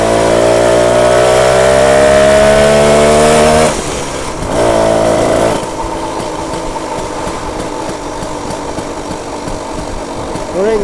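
A BSA Bantam 175 motorcycle engine buzzes loudly and steadily while riding, its pitch rising for the first few seconds, then dropping to a lower, rougher running note with wind and road noise.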